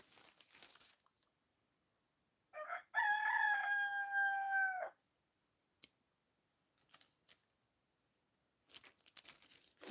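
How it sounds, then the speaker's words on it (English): Roosters crowing at night, one clear drawn-out cock-a-doodle-doo lasting about two seconds in the middle, with faint clicks and rustles scattered around it in an otherwise quiet setting. "I'm talking about the roosters."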